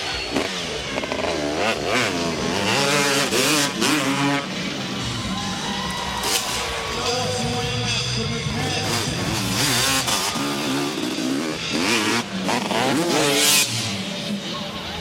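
A freestyle motocross motorcycle at the 2000 Gravity Games revs loudly in repeated bursts through a 15-second run, with a crowd cheering behind it.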